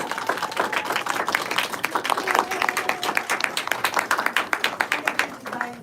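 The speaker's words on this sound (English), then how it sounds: "give Tomomi a warm round of applause" Audience applause at a spiritual expo, dense steady clapping from a crowd building over several seconds, then thinning into a few louder individual claps near the end.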